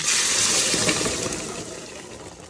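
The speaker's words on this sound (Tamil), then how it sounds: "இப்போ நம்ம வேக வச்சிருக்கிற பருப்பை இது கூட ஊற்றுறோம்." Cooked lentils are poured into sautéed vegetables in a pot for sambar, a thick close gushing pour that starts strong and slowly tapers off, with no speech.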